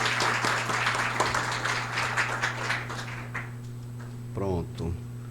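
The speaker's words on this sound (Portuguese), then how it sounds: "Uma salva de palmas para o pastor." Audience applause for a pastor about to give a talk at a bookstore author event, dense clapping filling most of the clip before fading, with a voice briefly speaking near the end over a steady hum.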